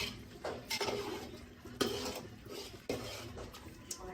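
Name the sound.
stirring natu kodi pulusu (country chicken curry) in pot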